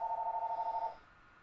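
A telephone rings with a fast warbling electronic trill in a single burst of about a second, moderately quiet and close, then fades out leaving faint background noise.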